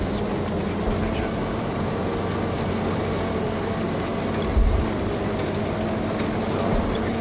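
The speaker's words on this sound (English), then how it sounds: "This is a small engine." Small vehicle engine in the Gunner Heat PC combat game, a low steady mechanical rumble and hum throughout with a brief thump midway, faint voices murmuring underneath.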